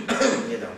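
A voice imitates a single short, rough cough during a sermon, close and loud.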